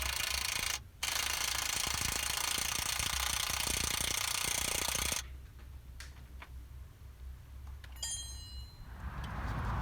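Power tool tightening a bolt on the suspension of a 2005 Land Rover Discovery 3 during an air-to-spring conversion: a loud, rattling impact-style burst lasting about five seconds, then quieter clicks and metallic ticks.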